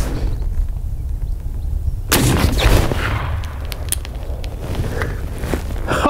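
A Ruger Marlin 1895 SBL lever-action rifle loaded with heavy 428.5-grain bullets fires into a gel block, giving one loud sharp crack midway, with clattering and rustling before and after.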